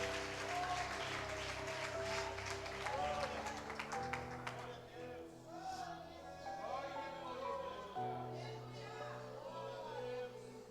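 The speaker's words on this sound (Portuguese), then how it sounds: "Aplauda Ele, aplauda" Congregation applause at a church testimony service, a steady wash of clapping that fades after a few seconds while music and voices continue underneath at a moderate distance.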